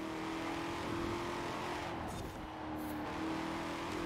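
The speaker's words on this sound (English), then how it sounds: "Listen to that engine on that car ahead of us." A steady engine of a 2020 Ford Mustang Shelby GT500 in Forza Horizon 4 drones loudly and continuously, holding a constant hum with a slight dip partway through.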